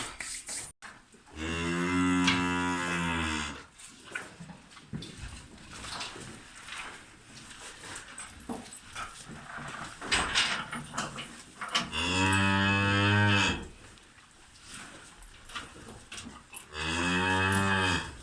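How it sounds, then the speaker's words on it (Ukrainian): Half-Belgian cow in heat moos loudly and repeatedly in a barn, three long drawn-out calls spaced several seconds apart, with quieter shuffling and farm noise in between. "Бачите, яка частота мекання."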